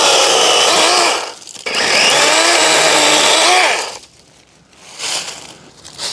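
DeWalt 20V MAX XR 12-inch battery chainsaw cutting stubborn invasive wood in a forest, a loud close whine that runs for about a second, dips briefly, surges for a longer cut, then drops to lighter bursts.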